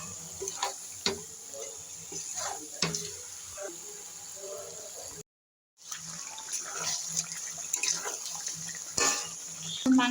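Water is poured into a pot of chicken that has been browning with spices, to make gravy. A steady close pour and splash with small clicks runs through, broken by a brief moment of silence.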